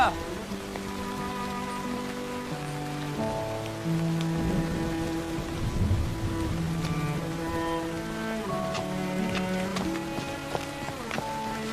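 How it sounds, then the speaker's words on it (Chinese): Steady rain patters on a surface throughout, with soft sustained music playing underneath. "夫人，下雨了，我来接你回去。"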